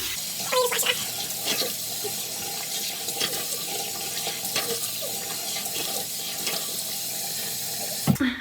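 A face mask is washed off under running tap water, which pours steadily into a sink with splashing and rubbing sounds, and the flow shuts off at the end.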